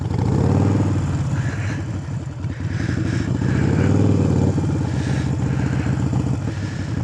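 A motorcycle doing slow parking lot practice laps with the rear brake dragged, its engine loud and close, rising and easing through repeated throttle changes.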